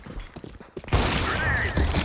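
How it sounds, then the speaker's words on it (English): A flashbang goes off during a Counter-Strike-style tactical shooter round, a loud sudden burst followed by a sustained bright ringing wash. Busy, clattering game sounds come just before it. "I throw in the flashbang."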